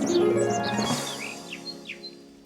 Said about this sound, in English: we've also got the Welcome Spring car horn